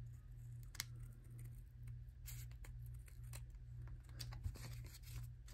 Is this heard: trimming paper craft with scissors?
yes